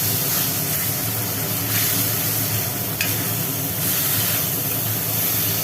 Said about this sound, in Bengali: মশলাটা যাতে লেগে না যায় তার জন্য হালকা করে একটু জল দিয়ে দেওয়া হলো